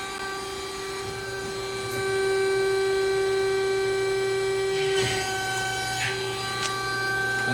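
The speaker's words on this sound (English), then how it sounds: "I have this set up so that I can bend it like that 2 at a time." An 80-ton 1.6 m CNC press brake bends metal brackets two at a time, with a steady tonal machine hum, rising mid-clip, with a few brief metallic clunks.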